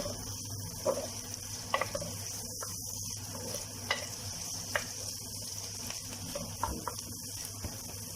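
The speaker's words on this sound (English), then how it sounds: "now you can put in your ginger, your chopped ginger. Stir a bit, let your ginger release its aroma" Chopped ginger sizzles in a pan of frying garlic and onions, a soft continuous crackle with occasional light taps and stirring clinks, fairly quiet and steady.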